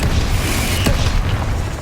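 A Confringo spell blast in the video game Hogwarts Legacy: a loud, deep booming impact with a rumbling low end and a sharp burst near the middle, set against a dense roaring battle background.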